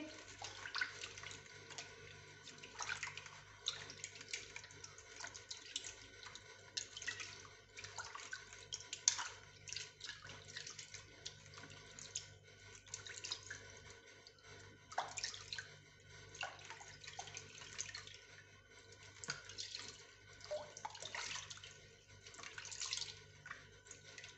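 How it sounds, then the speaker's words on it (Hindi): Hands are rinsed under cold running tap water during a home skin-care routine, a continuous quiet splash with irregular swishes and drips as the hands move, fairly close, with nobody speaking. "ठंडे पानी से हाथ धो लेंगे"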